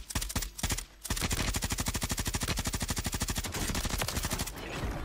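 Automatic gunfire in the Call of Duty video game on PC, a long sustained stream of rapid, evenly spaced shots, loud and close, with a brief break near the start.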